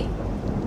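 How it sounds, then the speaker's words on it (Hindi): Thunder rumbles in a short, dense low roar mixed with the hiss of heavy rain, loud and continuous with no speech. "कैलाश गरज रहा है महादेव"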